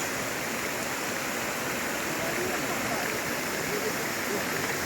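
Steady, dense rush of water pouring down Gürlevik waterfall in Erzincan, partly frozen with ice above, a continuous broadband roar close by with no pauses.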